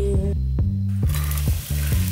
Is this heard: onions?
yes